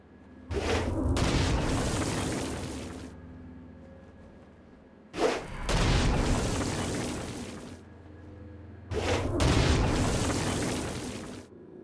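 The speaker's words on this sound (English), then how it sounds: "Stone Blast is especially useful on flying demons like this one." Three heavy Stone Blast explosions from the video game Saints Row: Gat Out of Hell, each a sharp booming burst followed by a long rumbling tail, spaced evenly with short gaps, loud and close with no talk.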